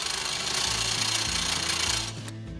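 Power tool, likely a drill, cutting a hole through the end of a new bonding strap for a boat's keel bolt, a steady loud whirring with a pitch that steps up and down, running nearly throughout and easing off near the end.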